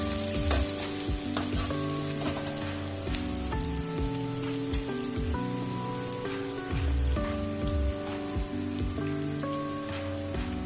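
Translucent onions fry in a pan while spices are added, making a continuous crackling sizzle like light rain, broken by occasional louder pops and stirring scrapes. A low tonal hum runs underneath and there is no speech.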